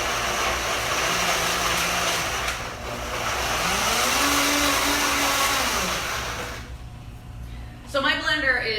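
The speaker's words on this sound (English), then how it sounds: "I'm gonna put this in the blender and I'm gonna whirl it up" A powerful countertop blender whirls an orange zest mixture, a loud steady motor roar with pitch shifts as the load changes, cutting off near the end before a brief voice.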